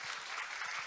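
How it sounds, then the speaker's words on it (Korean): An audience applauds at an opening ceremony in Jeju, with a dense, steady patter of many hands clapping, briefly and at moderate volume. "다시 한번 여러분 박수"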